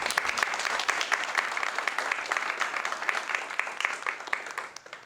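A gallery audience applauds in a room, with crisp, close clapping at a steady level that thins slightly toward the end.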